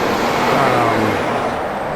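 A lifted 1979 Ford F150 Ranger XLT four-wheel-drive truck rolls down the road, giving a loud, steady wash of engine and road noise close by, with no voices.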